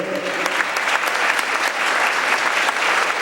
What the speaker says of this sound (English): Let's have a round of applause for Bill and the ASPCA, our partners at the A.